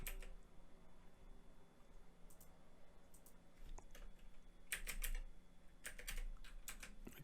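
Keys clatter on a computer keyboard while text is entered during magazine layout work in InDesign, coming in irregular bursts of clicks that are quiet and close, with no talking.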